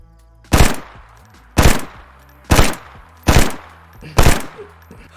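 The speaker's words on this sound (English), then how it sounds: "You are also able to shoot the FAMAS in burst fire mode if you choose to do so." A FAMAS rifle in the video game DayZ fires in burst mode: five sharp, loud bursts of rapid shots, evenly spaced about a second apart, each ending in a brief echo.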